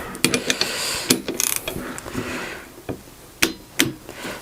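A torque wrench ratchets and clicks while tightening Varifold folding sailboat propeller bolts, close sharp mechanical clicks and ratchet sounds in irregular bursts, with a few faint background noises.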